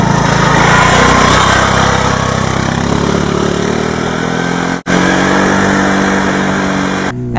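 Honda CBR600RR motorcycle engine running loud and close, a steady buzzing drone that holds and shifts slightly in pitch, with a brief cut near the end.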